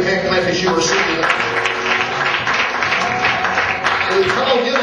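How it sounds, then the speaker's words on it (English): A Pentecostal church congregation claps along during a lively service, dense sustained hand clapping mixed with music and voices, loud and continuous. "Give the Lord a good hand clap as you receive it."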